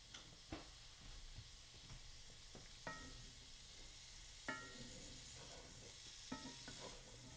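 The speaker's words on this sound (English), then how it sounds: "you can hear it start sizzling now" Onions sizzling in olive oil in a skillet, a faint steady crackling hiss with occasional soft clicks and stirring knocks, quiet and with no voices.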